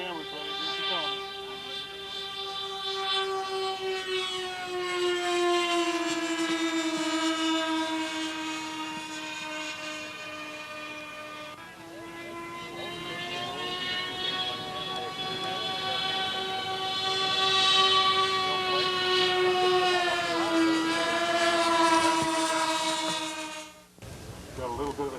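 A propeller aircraft on a photo pass at the Byron Aviation Expo in 1990, a loud sustained drone with strong tonal harmonics that shifts pitch as it passes, an announcer talking over it.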